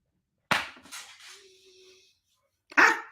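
Indoors, a dog gives a couple of sharp, close barks separated by a pause with a faint whine between them.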